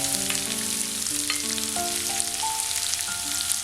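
Lemon pieces frying in oil for a vadukapuli naranga pickle, a steady bright sizzle throughout with faint stirring, close and fairly loud, no voices.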